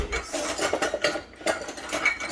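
Metal kitchen utensils clatter and scrape in a steady, busy jumble as someone digs through them for a small whisk, close and fairly loud with no talking.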